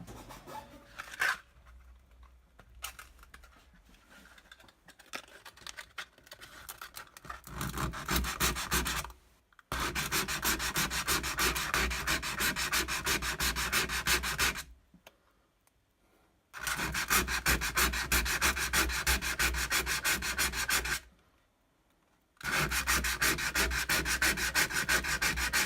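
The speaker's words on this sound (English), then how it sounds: "roughen with a piece of sandpaper" Sandpaper roughens a surface around a leaking sink before quick-repair putty goes on. The rasping strokes come in long, steady runs broken by a few short pauses, loud and close.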